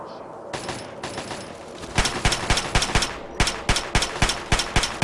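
Pistol gunshots ring out in the video game Fallout 3: a few sparse shots first, then a rapid, evenly spaced volley of sharp, loud cracks in quick succession.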